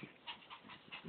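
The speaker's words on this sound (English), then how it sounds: "She's panting so hard." A dog pants in quick rhythmic breaths close by, quiet and soft, with no one speaking.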